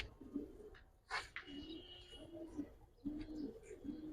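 Pigeons of the Giribaz and high flyer breeds coo repeatedly at close range, soft low throaty calls in short bursts, with a brief chirp and flutter between them.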